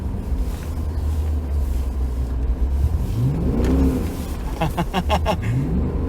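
A Mercedes W211 E63 AMG's engine revs hard in deep snow during a blizzard, a loud, close, rising roar as the car pulls free, with a voice heard over it.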